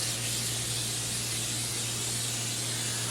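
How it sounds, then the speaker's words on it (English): Cooking oil spray hisses from a can in one continuous, loud, close burst. "I think we only need one spray."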